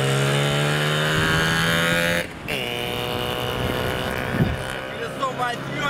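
A 38-year-old IZh Jupiter two-stroke motorcycle, smoking heavily, pulls away and rides on, its engine droning close with a steady buzzing tone that drops briefly, then rises again through gear changes.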